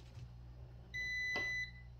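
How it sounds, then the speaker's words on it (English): A multimeter in continuity mode emits a steady electronic beep about two thirds of a second long as its red and black leads touch opposite ends of a wire, over a quiet low hum. "And you hear the beep."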